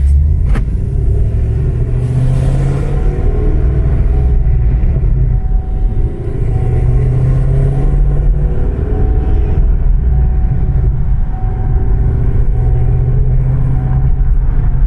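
A modified car with an LS V8 engine cruising on the road under partial throttle, a loud, steady low rumble that stays even throughout with slight swells, heard from inside the car with no talk.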